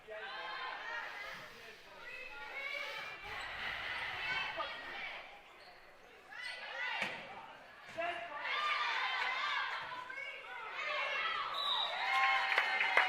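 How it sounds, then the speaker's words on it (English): Student supporters cheer for Hunterdon Central in an indoor girls' volleyball match against Voorhees, a continuous roar of young voices rising and falling in the gym, mixed with ball thumps and a commentator talking over it. "the students, really just cheering for the Hunterdon Central team"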